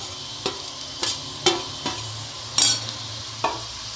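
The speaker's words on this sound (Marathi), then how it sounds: "खोबरे परतून घेऊ" Grated coconut stirred with softened onion in oil in a kadhai, a spoon scraping the pan in sharp intermittent strokes over a low steady frying hiss, about seven distinct stirs, close and moderately loud.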